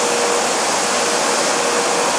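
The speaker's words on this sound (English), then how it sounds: "Vacuum clean complete." A vacuum cleaner at a car wash, cleaning a Tesla, runs with a loud, steady, unbroken roar throughout and no talk over it.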